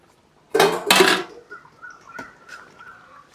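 A metal lid lifts off a pot of boiling Chettinad-style country chicken curry with two quick, loud clanks, then scattered faint clinks and a soft bubbling simmer underneath.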